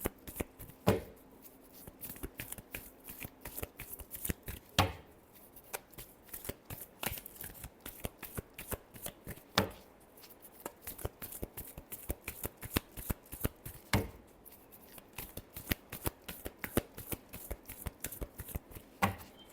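Tarot cards being shuffled by hand, repeatedly and fairly close, in quick riffling strokes with louder snaps every few seconds, at a modest level and with no talking.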